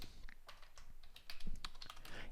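Rapid typing on a computer keyboard, a quick irregular run of soft clicks heard close up, alone with no voices.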